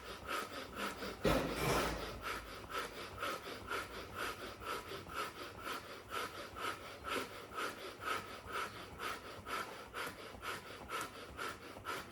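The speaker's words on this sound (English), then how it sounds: "rub the sides of your hands" Hands rub briskly together, palms and sides, during a breathwork exercise, making a steady rhythmic swishing of about two strokes per second, close and fairly soft, with one louder breath or rustle early on.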